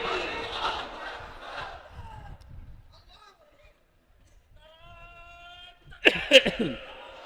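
A crowd at an Islamic religious sermon gathering shouts back in unison after a takbir call, the loud massed chant at the start, then a quiet gap and a sharp burst of voices near the end.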